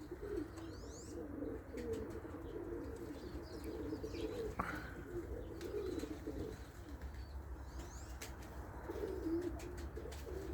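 Low, rolling coos from a group of racing pigeons in a winter loft continue for several seconds in repeated bursts, close and moderately loud, with occasional brief chirps and a sharp click partway through.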